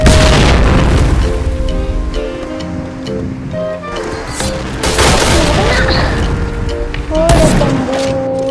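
Grenade blasts in the first-person shooter video game Point Blank, heavy booming explosions with rumbling tails and scattered gunfire, loud and close, with game voice lines and background chatter mixed in.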